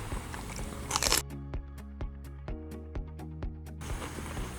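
Up close, a Megatron jalapeno pepper is bitten with a loud crunch, followed by a rhythmic series of crisp chewing crunches.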